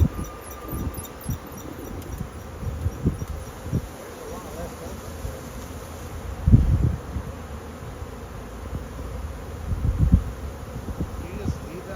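A honeybee swarm settling into a new hive hums and buzzes densely up close, with fanning bees adding a steady drone and occasional louder bursts as bees pass near; a voice murmurs faintly at times.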